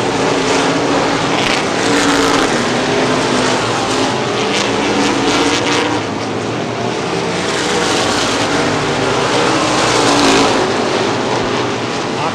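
Modified race cars in the Michigan Cup 50 at Springport Motor Speedway make a loud, continuous roar of engines as the pack passes close by.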